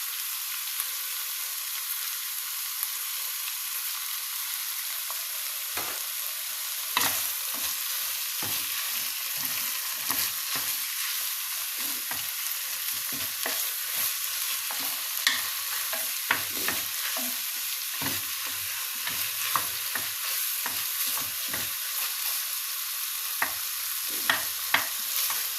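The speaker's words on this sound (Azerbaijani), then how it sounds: "yaxşıca qarışdırırıq və belə edirik ki, pişməyini gözləyirik" Salted blini filling frying in a pan, stirred well with repeated scraping strokes over a continuous close, bright sizzle, with no voices.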